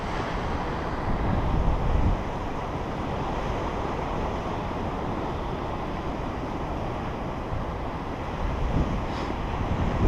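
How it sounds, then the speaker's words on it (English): Big sea waves surging onto a rocky shore where a tidal walkway floods as the tide comes in, a steady loud roar of surf with heavy wind buffeting the microphone throughout. "Nice big waves."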